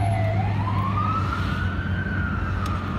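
A passing ambulance in Rochester, New York, sounds its siren in one long, loud, rising wail that glides upward and levels off over a low rumble of traffic, with no one talking.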